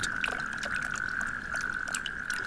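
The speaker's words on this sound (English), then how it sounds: "one can hear a concert during the mild spring nights in the seemingly dead junkyard. A couple of natterjack toads." Natterjack toads calling on a mild spring night in an abandoned industrial junkyard in Germany: a steady, unbroken purring trill holds throughout, with faint scattered chirps above it.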